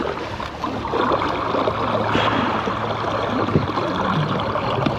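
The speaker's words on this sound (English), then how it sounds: "The current is really cooking on this side." Fast river current rushing past a creek mouth, heard from a boat: a steady, loud, broadband wash of moving water with a continuous low hum underneath and no talk.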